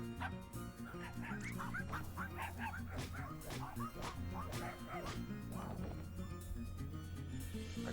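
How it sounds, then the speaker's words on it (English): Dog barking and yipping in a video game, a rapid series of short yaps and whimpers over a steady droning musical background, fairly close and continuous throughout. "Dog."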